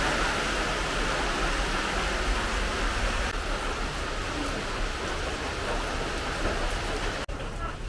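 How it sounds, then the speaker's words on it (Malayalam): Steady rain hisses evenly as a dense wash of falling water, constant and fairly close, with no clear voices. "മഴ പെയ്യുന്നുണ്ടല്ലോ"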